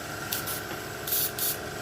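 An airbrush sprays paint outdoors in a close-range test, giving two pairs of short, loud hissing bursts over a steady background hum.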